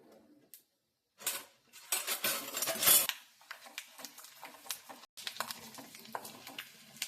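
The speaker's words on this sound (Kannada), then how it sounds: "ಶೇಂಗಾ ಹಾಕೋಬೇಕು, ಕಡಲೆ ಬೀಜ, ಹಾಕೊಂಡು ಚೆನ್ನಾಗಿ ಕೈ ಆಡಿಸ್ಬೇಕು." Peanuts frying in a pan are stirred with a metal utensil, giving scraping clinks and rattles in short bursts over a soft sizzle, with brief pauses between strokes.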